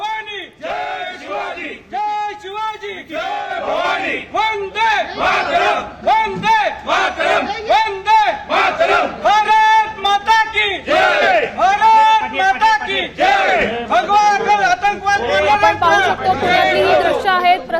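A crowd in Pune chants slogans loudly and continuously in unison, celebrating Prasad Purohit's acquittal in the Malegaon case, with rhythmic shouted bursts and a dense babble of voices throughout.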